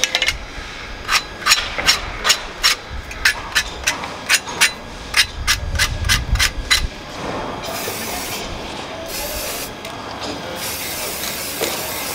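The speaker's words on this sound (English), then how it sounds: "I want to scrape off all this excess paint first" A scraper drags repeatedly across a painted surface to remove excess paint, about twenty rhythmic rasping strokes up close, followed by a softer steady hiss of rubbing.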